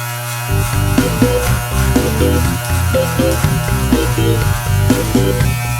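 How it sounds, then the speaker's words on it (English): An electric hair clipper running steadily close by during a self haircut, a loud continuous buzzing drone that pulses slightly as it passes over the hair, with no talking. "I'm running the clipper until I don't hear any cutting sound."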